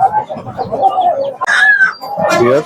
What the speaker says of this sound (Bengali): খুবই সুন্দর চমৎকার একটা জাতের মুরগি